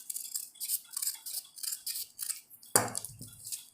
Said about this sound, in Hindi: अब जो हमें गला तैयार रखना है वो उसकी कटिंग कर देते हैं